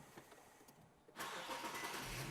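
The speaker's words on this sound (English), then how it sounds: "Now go ahead and start the car." A car engine cranks and catches after a quiet stretch, then settles into a steady, loud running roar close by, with no one talking.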